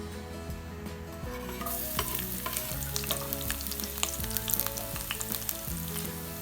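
Garlic sizzling in oil in a pan for bistek na bangus, a dense steady crackle close by with occasional utensil scrapes and stirring clinks, no talking.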